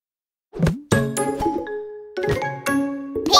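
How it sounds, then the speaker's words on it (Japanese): Doorbell chimes from a cartoon police car story, several clear, bright tones ringing one after another, beginning with a short swooping note and separated by brief pauses. "ピンポン。"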